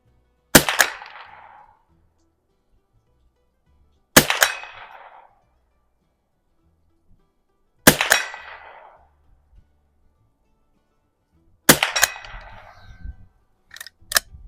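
Four single shots from a Stevens Springfield 87a rifle at the range, evenly spaced a few seconds apart. Each is a sharp crack that trails into a short metallic ring, with a final faint click at the end.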